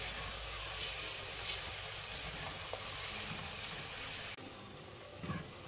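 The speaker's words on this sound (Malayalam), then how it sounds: "കുറച്ച് ഉപ്പ് ഇട്ടെടുത്ത് കഴിഞ്ഞാൽ ഉള്ളി പെട്ടെന്ന് വഴറ്റാൻ പറ്റും" Onions sautéing with salt in a pan for chicken biryani, a steady broadband sizzle running continuously and fairly close, easing off slightly near the end with a few light stirring clatters.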